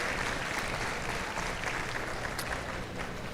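Applause from a seated audience at a continuing-education session, steady clapping for a guest doctor, somewhat faint and distant.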